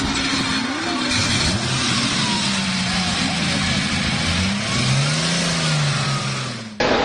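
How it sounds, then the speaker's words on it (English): Ferrari 250 GTO engine runs loud and close after starting, a steady roar with rising and falling revs that cuts off sharply near the end. "there was nothing like the sound of this car when you started it up"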